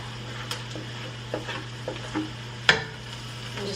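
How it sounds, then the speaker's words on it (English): Garlic frying in a pan: a low even sizzle under a steady hum, broken by several light spatula taps and one sharper clack against the pan. "next I'm going to go on and add in the garlic."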